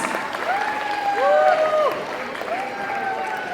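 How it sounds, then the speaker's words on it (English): A gala audience applauds to welcome China's ambassador at a congressional awards dinner; steady clapping fills the room throughout, with tonal voices or whistles rising over it. "Please give a big round of applause to the Honorable Ambassador from China tonight with us."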